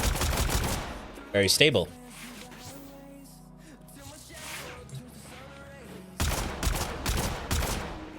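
Bursts of Phenmor rifle fire from Warframe come in short loud volleys at the start, after about a second and again near the end, with quieter game sounds and brief speech in between.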